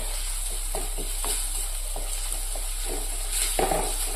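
Coriander powder stirred in a hot pan while making a restaurant-style Kerala mackerel curry, giving a steady low sizzle with repeated soft scraping strokes of the spoon, close and even throughout.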